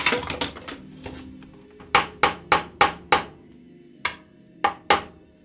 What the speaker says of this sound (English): You can actually hear on the hits of your hammer if you're reaching the bottom.